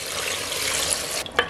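Water poured into a pot of Nagpur-style mutton saoji cooking over high flame, a loud continuous gushing pour heard up close that cuts off near the end, with no voices.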